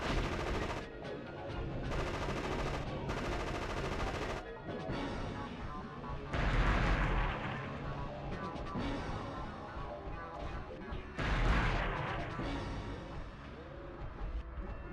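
Rapid automatic gunfire from a gun weapon power-up in the ED-209 simulator video game, loud bursts of shots repeating across the stretch over game music and effects.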